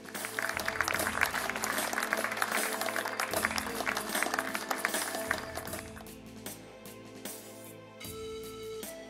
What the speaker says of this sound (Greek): Και ανεβαίνουν τα αγόρια μας το επάνω, πιο θερμό σας χειροκρότημα.